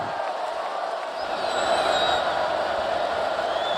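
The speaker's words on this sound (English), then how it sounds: "You hear this crowd start to get into the game just a bit" Crowd at a college football stadium during Cal at Notre Dame, a broad distant roar of many voices that swells slightly as fans get into the game.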